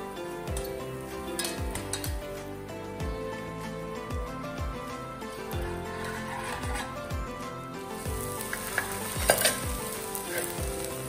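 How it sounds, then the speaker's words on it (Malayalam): Chopped tomatoes sauté in a pan with crushed ginger and garlic, giving a steady close sizzle with repeated stirring scrapes and occasional utensil clinks against the pan. "അതിനുശേഷം കട്ട് ചെയ്ത് വെച്ചിട്ടുള്ള തക്കാളി ചേർത്ത് കൊടുത്തു. ഇനി നന്നായിട്ടൊന്ന് വെന്ത് കുഴഞ്ഞു വരട്ടെ."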